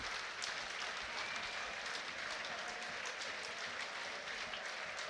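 Fans and players clap in the stands at a Wrexham versus Charlton Athletic football match, a faint, distant, continuous patter of applause with no clear breaks.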